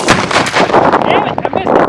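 Loud rifle gunshots ring out at an outdoor Tannerite target, sharp blasts coming in quick succession with a dense, booming echo throughout.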